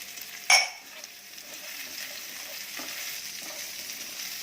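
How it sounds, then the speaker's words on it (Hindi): Onion and green chilli frying in a pan for dry chilli chicken, opening with a sharp clatter as they drop into the oil, then a steady close sizzle with faint stirring scrapes. "अब इसमें प्याज डालेंगे, अच्छे से स्टर करेंगे और साथ में ही हरी मिर्च डाल देंगे।"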